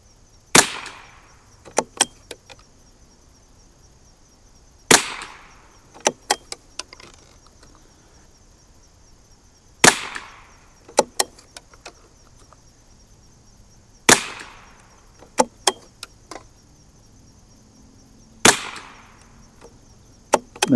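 A 1972 Anschutz Model 54 match rifle with a Vortex Viper scope fires a five-round group of Lapua Center X ammunition: five sharp, crisp reports about four seconds apart, each followed by lighter metallic bolt clicks.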